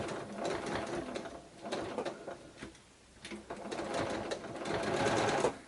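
A sewing machine slowly stitching string fabric scraps along a curve for a cathedral chairs quilt block: a close, steady mechanical whir in short runs, pausing briefly between passes, with no talk.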